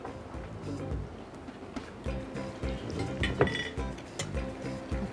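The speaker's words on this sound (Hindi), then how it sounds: "प्लेट ले लेते हैं और चिकन निकाल लेते हैं" Plate and utensils clink and clatter repeatedly as fried chicken is lifted out, with bright metallic taps scattered in an uneven rhythm close by.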